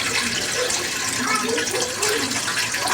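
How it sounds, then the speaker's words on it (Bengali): Water poured into rice flour in a kitchen to make dough for a winter pitha, a steady splashing pour that runs continuously, close and fairly loud, with some faint background noise. "দিয়ে দিলাম জল।"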